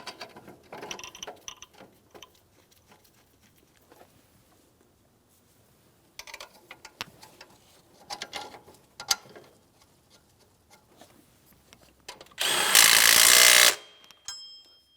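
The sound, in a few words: tightening alternator mounting bolts on a GMC Sierra 2500 HD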